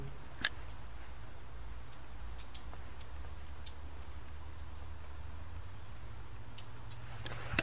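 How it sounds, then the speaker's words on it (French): A chaffinch in a tree gives a series of short, high chirps and call notes, close by and spaced irregularly over a quiet, faint background hum. "y a un pinson dans l'arbre"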